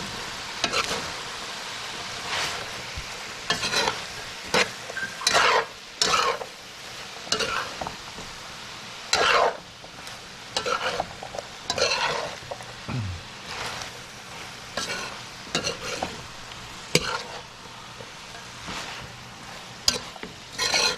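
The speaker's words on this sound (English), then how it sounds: "Make sure as you turn it up really good, stir it up, you know, the seasoning gets between the cabbage" Cabbage and chicken stirred in a frying pan, with repeated scraping strokes and soft sizzling, close and fairly quiet.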